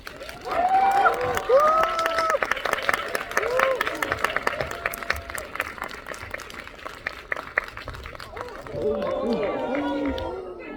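Cinema audience at a CGV Yeongdeungpo screening Q&A claps to welcome the director and a guest actor, dense clapping mixed with crowd chatter, cheers and voices talking over it.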